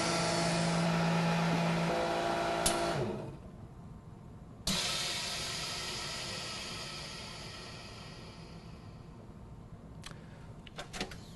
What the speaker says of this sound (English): and now do a full vacuum